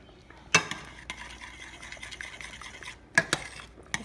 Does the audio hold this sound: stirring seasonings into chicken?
yes